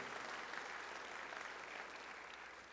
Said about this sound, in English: Let's put our hands together for those two individuals.